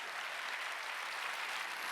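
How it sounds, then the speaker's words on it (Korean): Church congregation at a Wednesday worship service clapping hands steadily and vigorously, a dense continuous wash of applause lasting throughout with no pauses. "박수 세게 치라고"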